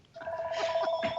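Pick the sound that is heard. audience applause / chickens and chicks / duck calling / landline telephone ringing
landline telephone ringing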